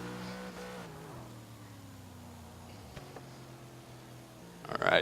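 A drift car cruising around the course during qualifying gives a moderately loud engine drone whose pitch slowly falls, then a sudden burst of noise near the end.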